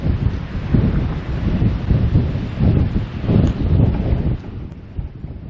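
Strong gusty wind roars outdoors in a garden, buffeting the microphone in loud, rumbling surges that rise and fall over several seconds before easing off near the end.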